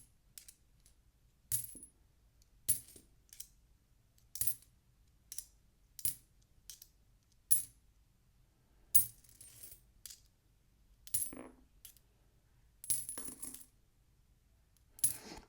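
Coins drop and clatter one after another while someone sorts through a collection, producing sharp metallic clinks at irregular intervals over roughly fifteen seconds, close to the microphone with no voices.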